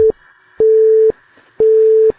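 Repeating telephone busy tone: steady electronic beeps, each about half a second, separated by short pauses, loud and clear with no voices.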